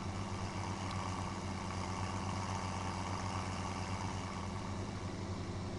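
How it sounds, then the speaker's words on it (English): In Farming Simulator 2017, a farm vehicle's engine hums at a constant low drone throughout, steady and unbroken, with no speech. "Love the sound of the engine on this thing."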